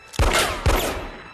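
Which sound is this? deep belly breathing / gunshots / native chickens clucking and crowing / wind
gunshots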